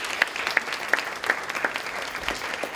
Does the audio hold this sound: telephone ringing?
no